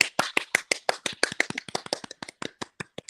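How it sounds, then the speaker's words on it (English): A studio audience on a morning show applauds a returning host, a brisk run of separate hand claps that thins out toward the end. "let's applaud the return of Miss Miko."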